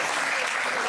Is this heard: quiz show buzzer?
no